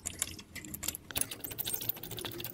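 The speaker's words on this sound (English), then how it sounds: "So I got here my impulse shopping quarter inch drive ratchet" Quarter-inch drive ratchet clicking in quick, uneven bursts of small metallic ticks, close and fairly quiet, while working on the EGR valve of a Land Rover Discovery 3.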